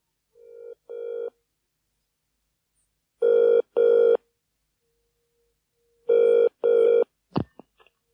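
An old-style telephone rings in clear double bursts, three pairs spaced a few seconds apart in a quiet room, before a clunk as the handset is lifted.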